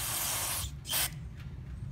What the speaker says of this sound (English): Spray in the carb.